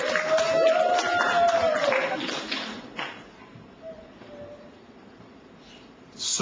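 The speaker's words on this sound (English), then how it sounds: "So everyone, let's clap for them." A school audience on a Christmas tour applauds the Hidden Things team, a dense burst of crowd clapping for about three seconds with a thin whistle-like tone over it, then quieter room sound with scattered faint noises.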